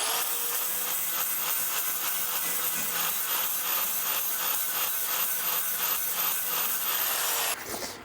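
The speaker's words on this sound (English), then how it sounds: "we're gonna take the flat wheel and we're just gonna clean the top off." A flat grinding wheel on a handheld grinder cleans down a fresh weld on the sheet-metal roof of a chopped-top car, giving a steady loud abrasive whine with pulsing rubbing strokes for about seven seconds before it cuts off.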